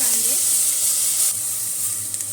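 Grated onion hits hot oil already holding bloomed cumin and cardamom pods, setting off a loud, steady sizzle that stays dense and close for a couple of seconds with no voices.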